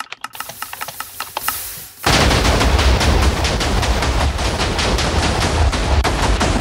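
Liberty Prime's right-hand gun fires in a video game: a quick run of separate shots, then a sudden loud, continuous roaring blast that holds steady to the end.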